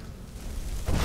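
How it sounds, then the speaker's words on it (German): A magic shot strikes the player's back in Skyrim, a dull rumbling burst that swells into a louder whoosh near the end of this short moment. "Kriegst du mal hier so einen schönen Magie-Schuss in den Rücken"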